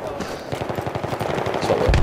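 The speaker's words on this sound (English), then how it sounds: "sound like there's gunfire up there." Rapid automatic gunfire in the first-person shooter Battlefield 3 during a team deathmatch, a steady burst of evenly spaced shots running through the whole moment, loud and close, ending in a heavier blast.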